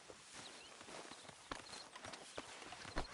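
Horse hooves clip-clop at a walking pace in Red Dead Redemption 2, soft irregular thuds over a steady background hiss of game ambience.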